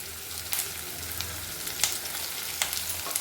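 Crushed pepper, cumin, garlic and asafoetida fry in hot oil for an Andhra-style ulavacharu, giving a steady close sizzle broken by a few sharp pops and crackles.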